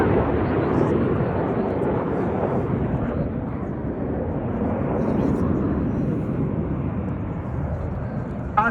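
Red Arrows jets passing at the Cosford Airshow 2024, a broad, steady roar of jet engines rumbling continuously through the whole stretch, loud and sustained without clear breaks.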